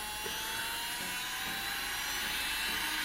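A Melody Susie Jade S Series portable electric nail drill runs at full speed, giving a steady, high-pitched whine close by, constant and unbroken throughout.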